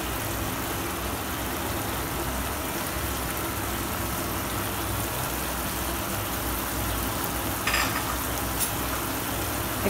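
Spicy okra sizzles and fries in a pan with coriander leaves just added, a steady crackling hiss with a brief scrape of stirring near the end.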